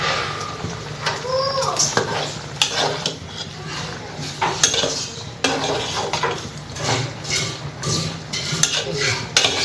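A utensil stirs boiled pasta and noodles together in a pan, with loud, close scraping and clattering against the metal in quick irregular strokes over a light sizzle.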